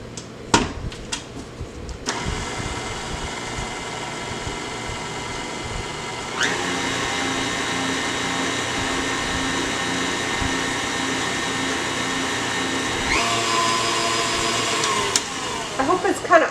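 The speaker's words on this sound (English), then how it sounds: "I'm just going to run this in the mixer real quick" An electric mixer whirs steadily as it blends a maple-scented shower steamer mixture, the motor note rising and holding strong through most of the stretch, with a brief pause and clatter near the start and end.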